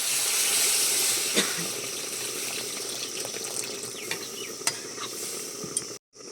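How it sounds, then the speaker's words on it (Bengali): Water poured into a hot pan of fried spices and chili powder, a loud, steady hiss and sizzle with bubbling and a few clinks of stirring, heard close up, breaking off abruptly near the end. "এবারে জল দিয়ে দিচ্ছি পরিমাণ মতো।"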